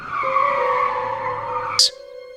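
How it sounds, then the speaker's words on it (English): Car tires squeal in a sustained screech over a running engine as the car spins its wheels pulling out of a parking space, then cut off abruptly with a brief sharp noise. "slammed the car into gear and spun its wheels as he pulled out of the parking"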